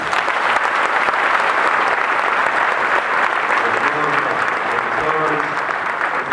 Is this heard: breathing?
no